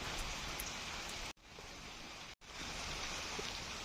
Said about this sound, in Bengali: এখনো কিন্তু বৃষ্টি হইতেছে